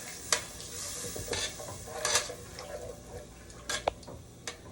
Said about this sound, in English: I'm just going to deglaze the pan